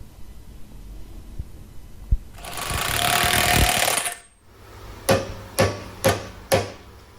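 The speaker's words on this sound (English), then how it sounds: "Try and use my hammer at least once a day." After a burst of grinding noise, a hammer strikes four times in an even rhythm, sharp metallic blows ringing out close by, during a car resto-mod.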